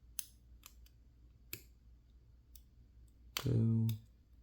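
Lock pins clicking while a lock is picked: a few sparse, sharp, close clicks spaced apart, followed by a short, louder buzzing burst near the end.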